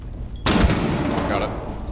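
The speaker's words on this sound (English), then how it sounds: "Flashbang" A flashbang grenade goes off in Rainbow Six Siege, a sudden loud burst followed by a sustained ringing wash of noise that fills the rest of the moment.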